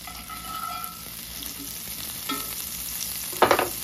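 Butter sizzles and fries in a hot skillet as it is heated for frying jumbo eggs, a steady hiss with a few brief scraping stir sounds and a louder crackling burst near the end.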